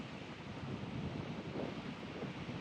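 Strong wind buffets the microphone over rough sea waves while out fishing on the open water, a steady loud broadband roar that stays continuous throughout, with no speech.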